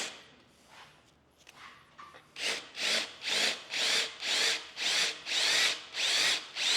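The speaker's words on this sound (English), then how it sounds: "I'm gonna start out with a 1/4 inch bit and then work my way up to the 5/16 and go slow" A hand drill bores into steel with a 1/4 inch bit in a blacksmith's shop, starting with a few quiet scrapes and then grinding in about nine slow, regular bursts, each rising and fading as pressure is applied.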